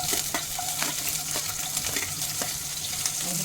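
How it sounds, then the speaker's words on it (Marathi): Green chillies and peanuts fry in a pan with oil, giving a steady loud sizzle broken by repeated scrapes and clinks of stirring, and no voices. "आता ही हिरवी मिरची भाजून झालेली आहे."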